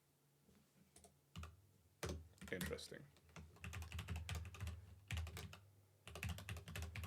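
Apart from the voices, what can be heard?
typing on a computer keyboard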